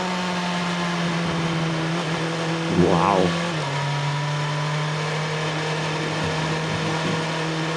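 A Lotus sports car's engine runs at a steady idle with a brief rev swelling near the middle, close and fairly loud, while a voice briefly exclaims.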